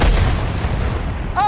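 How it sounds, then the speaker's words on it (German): Artillery fire in a World War I video game: a loud, close, rumbling barrage that fills the whole moment, with a rising shell whistle cutting in at the very end. "Artillerie!"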